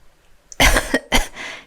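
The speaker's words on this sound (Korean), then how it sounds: "그날 밤 어미는 기침을 하며" Two sharp, close coughs, the first broken into a short double burst and the second single, followed by a softer breathy tail in an otherwise quiet room.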